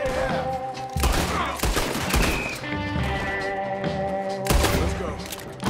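Gunfire in the video game Red Dead Redemption 2, several heavy bursts of shots near the start and end, with game music running steadily underneath.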